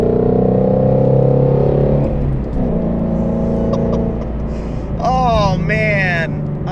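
A Shelby GT350 engine revs hard with a loud, sustained mechanical roar that eases off midway and then builds again, while a voice shouts excitedly near the end.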